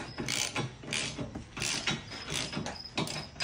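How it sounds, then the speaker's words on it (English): Ratchet wrench tightening the bolts of a U-Haul trailer hitch receiver being installed on a car frame, a steady run of quick mechanical clicking strokes in repeated bursts, close and fairly quiet. "Now I can go around and tighten all six"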